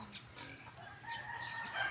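A rooster crowing faintly at a distance on a rural farm in the morning, with a couple of drawn-out calls over quiet outdoor background.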